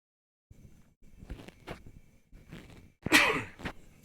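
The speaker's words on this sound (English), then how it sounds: "I need to sneeze for a second." Faint breathy inhalations build up before one sharp, loud sneeze bursts out near the end, close to the listener.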